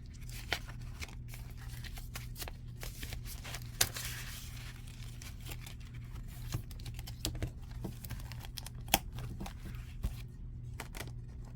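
Paper rustles and crinkles close by as an envelope is handled and cash bills are slipped inside, with soft scattered taps and shuffling throughout.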